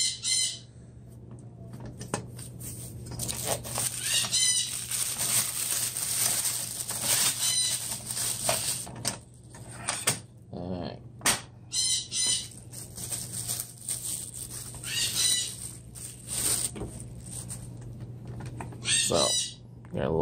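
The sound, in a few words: pet bird squawking and flapping wings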